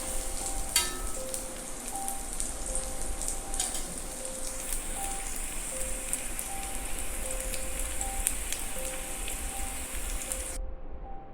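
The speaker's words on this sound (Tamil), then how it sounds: "வெங்காயம் தாளித்து கொட்டிட்டேன்." Onions sizzle steadily in hot oil as they are tempered for a roasted brinjal raita, a dense, even crackle filling the whole stretch with no talk, then cutting off abruptly at the end.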